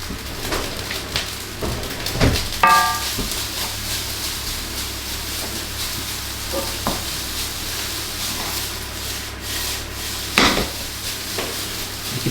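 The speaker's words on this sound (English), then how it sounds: "You can hear that sizzle." Singapore fried rice sizzling and being stirred in a hot wok, a steady frying crackle broken by sharp scrapes and clanks of the utensil on metal, close up.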